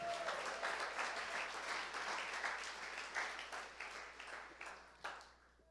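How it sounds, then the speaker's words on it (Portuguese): A church congregation applauds together, a dense crowd of clapping that swells at first and then gradually thins and fades toward the end, heard at a moderate distance. "Quem podia dar um aplauso a Jesus por isso?"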